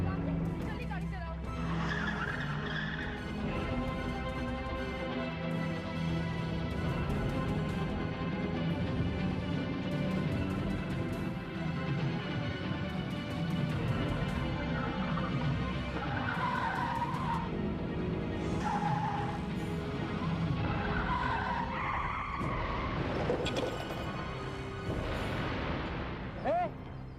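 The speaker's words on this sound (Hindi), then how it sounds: "जल्दी गाड़ी चलाओ" A car is driven fast, its tires squealing and skidding in long, loud screeches over a continuous engine roar, with dramatic music and shouting voices layered throughout.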